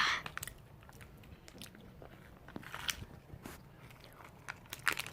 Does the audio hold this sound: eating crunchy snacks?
yes